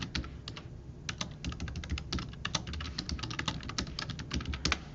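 Rapid, uneven keystrokes on a computer keyboard while entering a prompt into an AI image generator, close and steady throughout with no talking.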